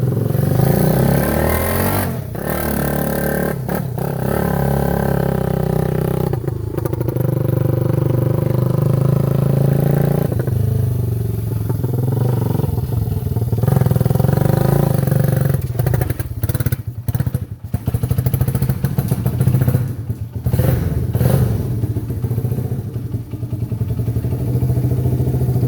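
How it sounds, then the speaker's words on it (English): A classic Honda XR75 mini bike is ridden, its small engine buzzing loud and close throughout, with revs rising and falling and occasional rattles and scrapes. "something about riding a mini bike that just makes me smile, especially a classic Honda like this XR75"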